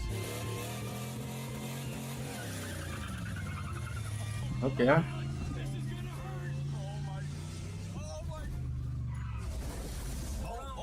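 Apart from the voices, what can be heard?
car driving on a cruise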